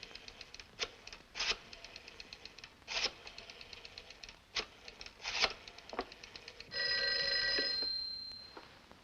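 A telephone bell rings in short repeated bursts inside a home in a 1949 film scene, then a longer sustained ring swells and fades, with no one speaking.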